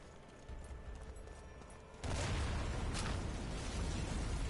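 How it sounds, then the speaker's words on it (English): In Sniper Elite, a chain reaction of explosions bursts suddenly after two seconds of low background rumble, followed by a sustained loud, crackling roar with another sharp blast near the end. "Explosion has been heard."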